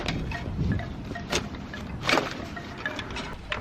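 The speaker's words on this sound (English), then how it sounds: "Yeah, it's cold and windy today." Gusty wind buffets the microphone outdoors, a low rumbling roar with a few sharper bursts, no talking.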